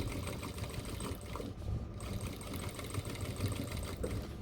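A sewing machine stitching seams on cargo pants, running in a steady fast rhythmic whir with rapid needle clatter, close and continuous apart from a brief slowdown.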